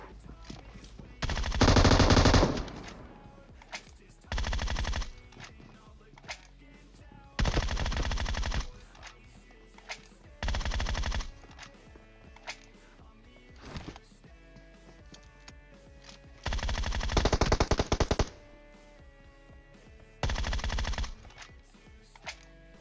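Repeated bursts of automatic gunfire in PUBG Mobile, several loud rapid volleys separated by short pauses, with quieter game sounds in between.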